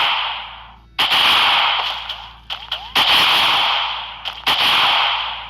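Sniper rifle fire in a video game: several loud, sharp cracks with echoing tails, spaced irregularly over a continuous hissing noise bed, some in quick pairs.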